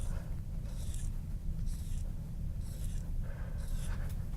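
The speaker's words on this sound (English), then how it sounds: "So I'm going to draw a staff." Hand drawing a music staff in treble clef for a lesson on sharp key signatures: four bursts of pen or marker strokes scratching across a surface, each about half a second long, close and clear over a steady low background hum with no talking.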